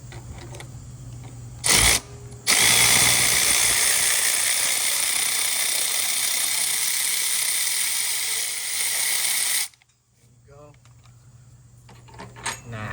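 A power tool runs steadily for about seven seconds, loud and close, while removing the rear engine mount bolt on a Honda Element, followed by quieter handling noises.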